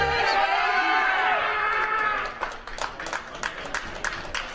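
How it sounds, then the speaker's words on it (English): A crowd cheers at a powerlifting championship during a 184 kg lift attempt. A loud, sustained roar of many voices fades after a couple of seconds into scattered claps and murmurs. "Plenty of cheering"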